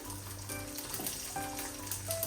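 Mustard seeds crackling and sputtering in hot oil on a stove, a continuous quiet sizzle with scattered small pops, fairly faint and heard without any talking.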